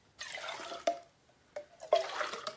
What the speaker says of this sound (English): fill a can halfway up with water